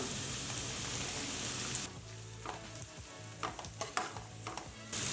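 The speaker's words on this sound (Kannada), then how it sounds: "ಒಂದು ಗಡ್ಡೆ ಬೆಳ್ಳುಳ್ಳಿ ಸಣ್ಣದಾಗಿ ಹೆಚ್ಕೊಂಡಿರೋದು ಸ್ವಲ್ಪ ಫ್ರೈ ಮಾಡ್ಕೊಳ್ಳೋಣ" Finely chopped garlic and a lengthwise-sliced onion fry in a pan for street-style Chinese veg fried rice: a loud, even sizzle, then quieter frying broken by scrapes and clinks of stirring.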